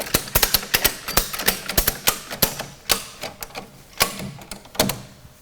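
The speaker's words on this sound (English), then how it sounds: "then we put the ratchet strap on as normal" A ratchet strap is cranked tight around a drum held in a stainless steel electric drum tipper, producing a rapid series of sharp metallic clicks in uneven bursts, close and loud.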